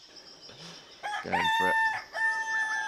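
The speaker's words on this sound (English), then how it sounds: "We got woken up by an absolute bunch of cocks. Well, they're roosters I think, but very noisy." Several noisy roosters crow at sunrise on a cycling trip across Asia, loud cock-a-doodle-doo calls close by and repeating, with a brief clucking bird and a few spoken words underneath.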